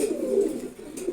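A male Chila pigeon coos in one sustained, throaty murmur that rises and falls, close and clear over a faint background, with no voices.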